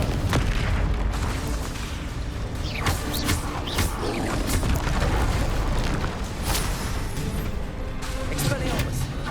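Repeated Confringo fire spell blasts from the Hogwarts Legacy video game in a haunted dungeon fight, dense booms and bursts going off one after another with a voice shouting spell names throughout.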